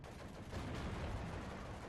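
Gunfire from a T-34 tank in Steel Division 2, a dense, sustained burst of battle noise with rattling shots and rumble filling the whole moment, loud and unbroken.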